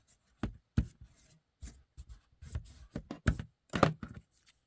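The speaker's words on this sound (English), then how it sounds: "I'm going to cut this off. And just fold it down a little bit better." A paper tab for a junk journal being snipped off and folded down on a desk: a run of sharp, close cuts and crinkling paper handling in uneven bursts, with no talking.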